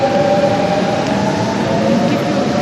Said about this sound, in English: So I'm getting down from the train which comes from Châtelet.